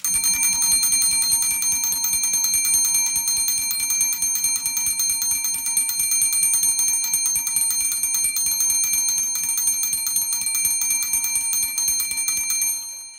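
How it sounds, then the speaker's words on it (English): A restored shield clock's alarm hammer striking its bell in a rapid, continuous ringing trill with a bright metallic tone, loud and close, stopping abruptly at the end. "Each pin pushes the alarm camshaft wire alternately to activate the alarm hammer back and forth"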